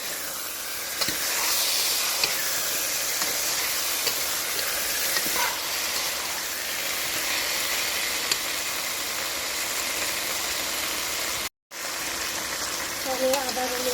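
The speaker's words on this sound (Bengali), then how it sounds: "এগুলো সবগুলো আমি ভালো করে নেড়ে দেবো। সবগুলো একসাথে কষিয়ে নেব।" Chicken curry with potatoes sizzles steadily in a wok as it is stirred and browned, a continuous close hiss of frying with occasional scrapes, broken by one brief cut near the end.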